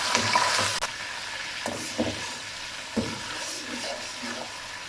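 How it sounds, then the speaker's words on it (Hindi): Ginger garlic paste fries with golden onions in a pan, a low close sizzle with a few soft spatula scrapes and stirs, louder at first and then settling to a quieter hiss. "अब इसमें अदरक लहसुन का पेस्ट डालते हैं। इसको भी 1 मिनट के लिए भून लेते हैं।"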